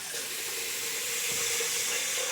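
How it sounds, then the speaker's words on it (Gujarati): Water is poured steadily from a vessel onto sugar in a pan for gulab jamun syrup, making a continuous close splashing hiss with no pauses. "હવે આપણે આને પાણી નાખી દઈશું."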